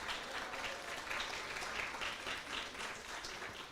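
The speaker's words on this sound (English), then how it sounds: "So let's give a big round of applause to the performer." Audience applause for a child performer after a Janmashtami performance at a Govardhan Puja gathering; soft, distant, steady clapping from a crowd in a room.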